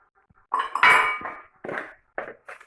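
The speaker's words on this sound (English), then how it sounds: "Then you stir again until you get one uniform layer." A utensil stirs sugar into whisked egg mixture in a bowl, making a run of light clinks and scrapes against the bowl in several short bursts. The sounds are close and nobody speaks.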